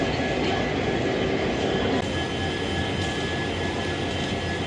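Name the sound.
train at a railway station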